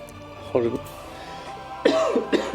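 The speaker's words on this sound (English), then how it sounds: "Excuse me, coughing again." Several short, harsh coughs from a nearby voice during a livestream of pre-patch gold making and Cloud Serpent reputation grinding, with two separated bursts of coughing over a quiet background hum.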